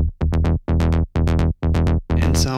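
A synth bass patch with a fuller envelope and longer decay plays a punchy melodic techno line of about eight notes, each one swelling and then fading. The notes are loud and alone, and a brighter noisy hit closes the phrase.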